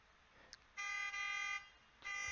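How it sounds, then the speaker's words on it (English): A car horn beeping outside, heard faintly indoors as two sustained steady blasts with a short gap between them. "somebody's beeping their horn outside"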